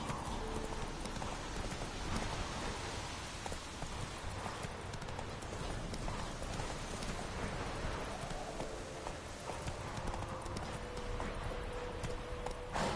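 Roach the horse gallops in The Witcher 3, with steady rapid hoofbeats drumming close and loud for the whole stretch over a dense outdoor ambience.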